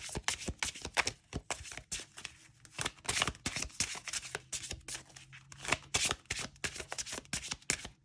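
Rapid, crisp riffling of a slick oracle card deck, side shuffled, repeated in quick bursts of slapping and flicking, close up and fairly quiet.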